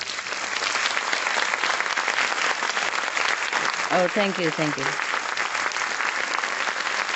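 A hall audience applauds to congratulate the release of the Spanish edition of a book about dogs, with sustained, full clapping throughout, and a brief spoken thank-you from one person rising over it midway.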